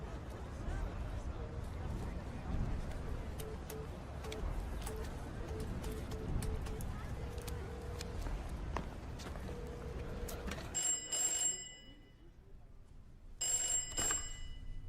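A telephone bell rings in two short bursts near the end, cutting through a steady noisy background with voices and movement before it.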